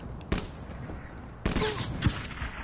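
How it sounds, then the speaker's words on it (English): Gunfire from the Black Ops 3 video game, with two sharp bursts of shots ringing out a second apart and a fainter crack in between, set over a steady background bed with no talking. "The gunshots, though."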